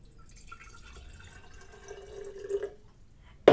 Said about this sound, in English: So first I am going to put water in here.